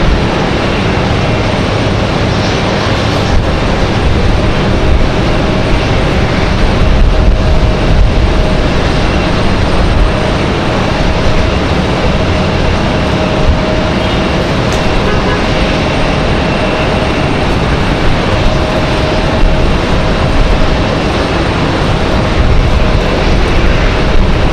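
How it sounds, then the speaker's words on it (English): A JetBlue airliner arriving at Raleigh-Durham airport makes a loud, steady broadband engine roar that holds for the whole stretch, with people speaking intermittently beneath it. "Looks like our next arrival is going to be JetBlue 2083."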